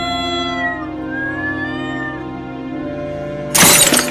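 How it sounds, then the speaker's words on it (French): A cartoon cat in an animated French fairy tale lets out a long drawn meow that bends in pitch over a music bed, followed by a sudden loud crash of breaking flowerpots near the end. "Non! Sale chat!"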